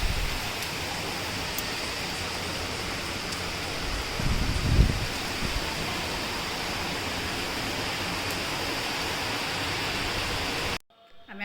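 Heavy rain pours down in a constant, dense hiss that fills the whole stretch, with a brief low thump near the middle before the sound cuts off abruptly at the end.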